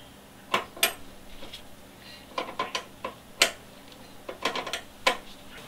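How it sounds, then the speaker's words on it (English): Sharp metallic clicks and clinks from a 10mm flare nut wrench loosening a brake line connection on a Toyota Yaris during a stainless steel braided brake line install, scattered irregular taps, close, with quiet gaps between. "using a 10mm flare nut wrench, we can go ahead and loosen the"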